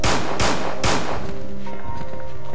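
Gunfire in Resident Evil 2: three sharp, loud shots fired at a steady pace, followed by a ringing game ambience with tonal hums.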